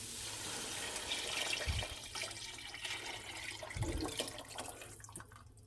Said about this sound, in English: We're going to add our 8 cups of broth.